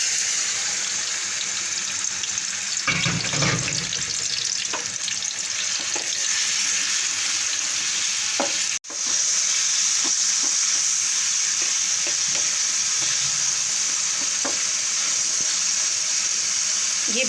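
Chicken pieces fry in a hot pan, a continuous loud sizzle broken by a brief clatter midway, with occasional stirring scrapes and no voices.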